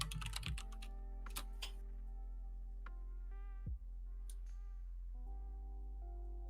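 Keystrokes on a keyboard with Cherry MX Brown switches sound in a few short clusters of clicks with gaps between, faint and close, over a steady low electrical hum.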